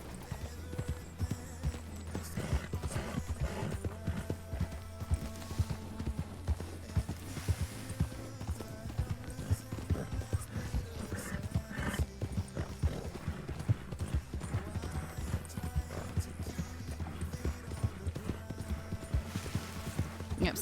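Horse hooves clip-clop steadily in the Red Dead Redemption RedM roleplay game, from a cheap horse breed found in the wild, with an occasional whinny and game ambience underneath.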